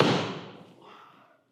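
A golf driver head strikes a ball in a single sharp, solid impact crack that rings briefly and fades within about a second, heard on its own.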